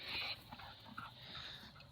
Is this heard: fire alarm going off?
no